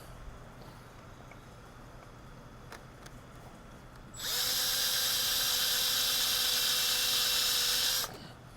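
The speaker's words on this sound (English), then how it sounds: "you're going to want to make sure you drill straight." After a few quiet seconds, a power drill whirs up loudly nearby, holding a steady high-pitched buzz for about four seconds before spinning down.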